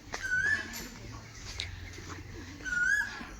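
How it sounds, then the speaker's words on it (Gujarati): An Asian koel gives two rising whistled calls, one early and one near the end, moderately loud over a quiet rural morning background. "અને કોયલનો અવાજ આવે છે મસ્ત"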